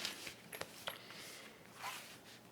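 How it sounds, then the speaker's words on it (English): Zipper on a sewn unisex bag pulled open and closed, a few quick rasping zips with short pauses between them, close and quiet. "So I'm going to unzip it going down, zip it going up."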